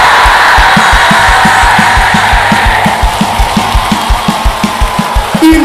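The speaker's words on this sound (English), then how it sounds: "Clap your hands and shout" Church congregation clapping in a steady rhythm and shouting together, loud and close, with regular claps driving through a dense wall of raised voices.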